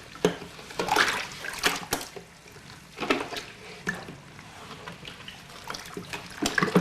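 Water and sugar stirred together in a bucket, a gallon of water at a time, giving irregular sloshing and splashing strokes with brief bursts of agitated liquid, close by and fairly loud.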